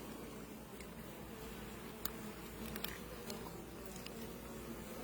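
Honey bees hum steadily at an opened beehive during a hive inspection, a continuous nearby buzz with occasional faint taps and clicks from handling.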